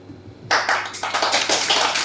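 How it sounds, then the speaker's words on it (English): A live comedy audience breaks into clapping after quiet, a sudden burst of many hands that continues as a steady patter of close claps. "Claps for the gays."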